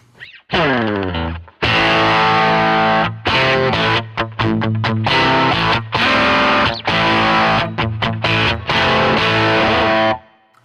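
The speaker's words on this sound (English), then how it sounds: "we have the Boss DS1 distortion Keeley modded" An electric guitar plays through a Keeley-modded Boss DS1 distortion pedal: a loud, fuzzy sustained chord rings out, then choppy, rhythmic distorted strums and stabs follow up close, with no voices.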